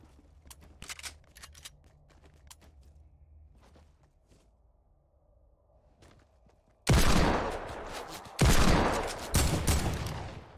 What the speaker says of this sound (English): With the AK, you need to literally tap it.